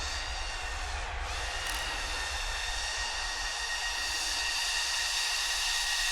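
A Pro Boat Aerotrooper RC air boat's motor runs on snow with a steady high-pitched whine and broad roar, continuous and fairly close for the whole stretch, with no talk.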